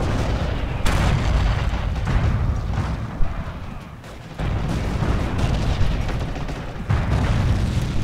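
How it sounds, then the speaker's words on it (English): Repeated enemy mortar explosions in the World War II shooter Forgotten Hope 2, Falaise Pocket battle, give deep booming impacts that recur across the span, loud and dense, with faint voices of players under the blasts. "the enemy mortar keeps killing me"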